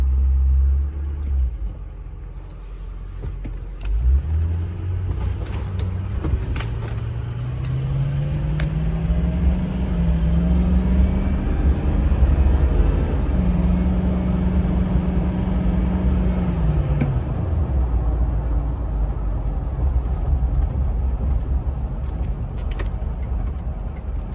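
A lifted 2005 Ford F250 Lariat FX4 pickup truck drives along a road with a deep, steady engine rumble that rises as it accelerates, holds, then eases off, loud and close the whole way.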